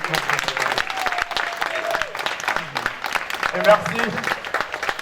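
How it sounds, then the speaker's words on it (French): Audience applause at a comedy festival show, a crackle of scattered clapping throughout with a voice speaking briefly over it and crowd noise in the background. "Applaudissements"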